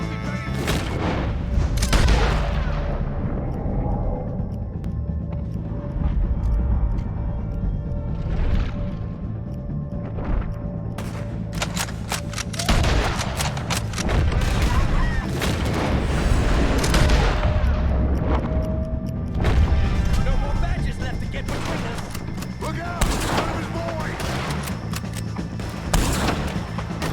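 Rapid gunfire from a Red Dead Redemption 2 shootout with O'Driscoll gang members: dense, repeated shots and booming bursts crack over a steady background of game ambience for the whole stretch.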